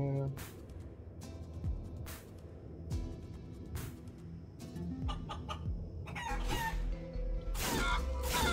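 A chicken in the video game Guacamelee! 2 gives repeated clucks and squawks in irregular bursts, mixed with sharp game effects.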